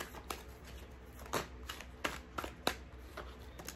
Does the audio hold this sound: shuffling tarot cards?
yes